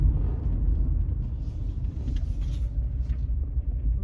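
A 2006 car pulls away in first gear at a dealer auto auction, giving a steady low rumble of engine and road noise up close with no talk.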